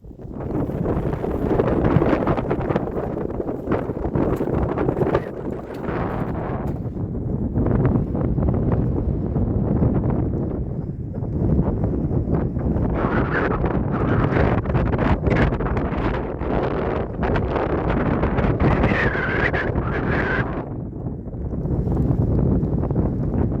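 Steady wind roars across an open trackway on a Roman road walk, buffeting the microphone continuously with gusty surges and no talk.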